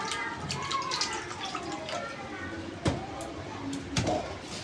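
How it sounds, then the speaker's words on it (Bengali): An eggplant is rinsed under a running kitchen tap, with a soft steady trickle of water and a couple of sharp clinks against the sink. "এবার আমি বেগুনটা ধুয়ে নিয়ে চুলোর কাছে যাব"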